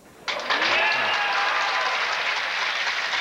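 Spectators at a 1995 high school boys swimming and diving state final break into sudden applause and cheers after a dive, a loud burst that stays steady and echoes in the indoor pool hall.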